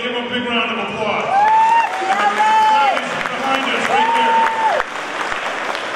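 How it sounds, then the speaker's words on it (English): Applause from an audience at a judo event at the Winter Nationals, a steady wash of clapping with a crowd and voices mixed in, while some tonal sounds glide through the middle. "Give him a big round of applause."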